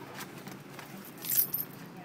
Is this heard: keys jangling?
yes